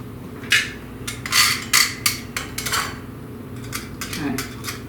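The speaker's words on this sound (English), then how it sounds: "I have a little grater here. I'm just going to put some of the zest in here." A lemon is zested on a small grater in a string of short, irregular rasping strokes close up, with brief pauses between bursts.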